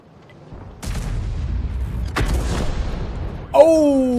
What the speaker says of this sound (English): He fired a round at the IS-3. He set fire to it.